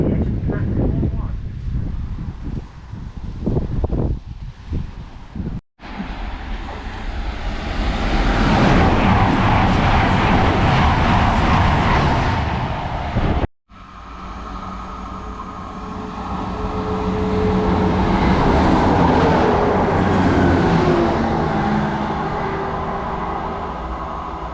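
A train rushes through a station at speed, its loud wind-heavy roar and wagon rumble filling the platform, briefly broken then swelling again as a second pass follows.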